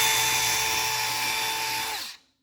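A high-pitched power drill whines steadily for about two seconds, then winds down and stops abruptly.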